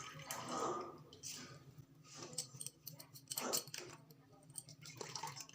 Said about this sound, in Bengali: এবার আলুগুলোকে আমাকে এইভাবে জলটা নিংড়ে তুলে নিতে হবে।